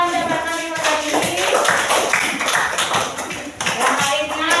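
Children in a classroom clap for classmates who earned rewards, a dense, steady patter of many hands close by that runs through the whole moment, with a teacher's voice and chatter over it.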